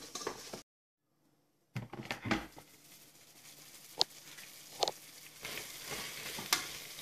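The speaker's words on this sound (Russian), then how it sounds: "Филе периодически помешиваем." Chicken fillet sizzles and fries in a multicooker bowl with steady crackling, punctuated by occasional scrapes and clinks of stirring, close and moderately loud after a brief silent gap.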